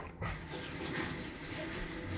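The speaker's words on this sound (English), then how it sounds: "I'm going to rinse this off 1 second, my spatula." Tap water runs steadily from a faucet to rinse a spatula in a home kitchen while candy is being made, a continuous close splashing gush with no talking.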